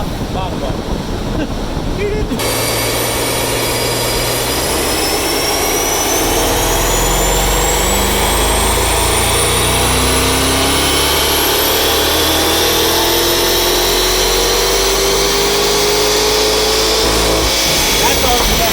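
A twin-turbo C8 Corvette roars steadily on a dyno, a loud sustained engine drone with rising turbo whine sweeping upward through the pull, then an abrupt drop-off near the end.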